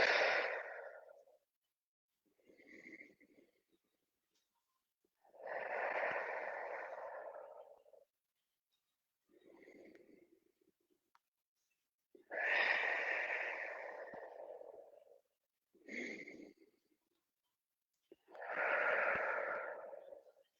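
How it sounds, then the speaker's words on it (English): Slow, deep breaths during a relaxation breathing exercise, long loud inhales and exhales spaced apart with silence between them, close to the microphone, with no talk. "we're just going to start with 5 nice deep breaths in this comfortable open position"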